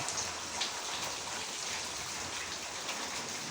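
Heavy rain falls in a continuous, dense hiss of drops, steady and even from start to finish. No voices are heard.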